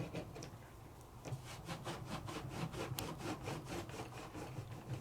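A sponge scrubs embossing powder off a non-stick craft mat in quick, even back-and-forth strokes, a close, dry, rhythmic rubbing that continues steadily without any talk.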